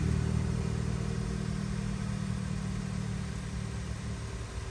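An engine of a newly bought project car with an unknown fault idles steadily with a low, rough rumble, continuous and fairly close, with no voices.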